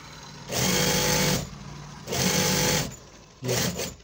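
A sewing machine stitching a men's salwar runs in three close, loud bursts of steady whirring, the last one short, with brief pauses between.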